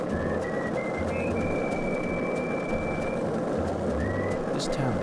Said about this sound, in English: Is he humming Amazing Grace?